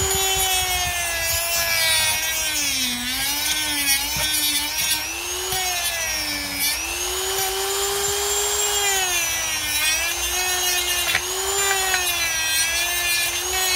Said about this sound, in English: Then I'm going to give it a little buff.